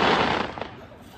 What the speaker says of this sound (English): We got fireworks.